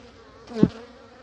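A brief buzzing honeybee passes close by at a hive, a short rising and fading drone.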